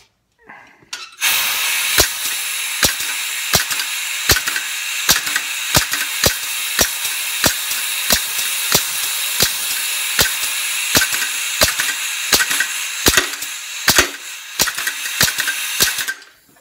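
A homemade cylinder engine fitted with a pressure needle valve runs at a steady clip, giving sharp regular knocks and a rattling clatter over a continuous hiss, loud and close for about fifteen seconds.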